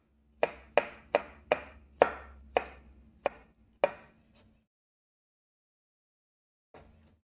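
Knife chopping fish-taco fillings on a cutting board: about nine sharp, evenly paced chops close up, then a pause and one softer final cut.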